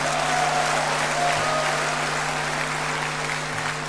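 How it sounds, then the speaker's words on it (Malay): A crowd applauds at the Barisan Nasional convention, a continuous, dense wash of clapping filling the hall for several seconds over a steady low electrical hum, with no speech. "Kita berikan tepukan pada rakan-rakan Friends of BN."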